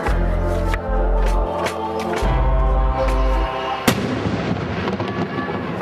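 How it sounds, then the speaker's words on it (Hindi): A ceremonial cannon fires from Raisen fort during Ramadan, a loud booming blast within dense rumbling noise, with a sharp crack partway through and a long rolling echo afterward. "रमजान के पूरे महीने रायसेन किले की तोप में 2 बार इसी तरह धमाके होते हैं।"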